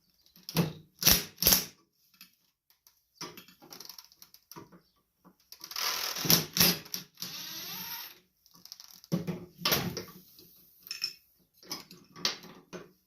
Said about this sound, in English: So you will need a 9/16 socket and wrench to loosen these up.